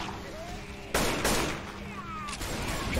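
Rifle gunfire in Left 4 Dead 2, a few sharp loud shots with brief echoing tails, surrounded by game noise and people talking.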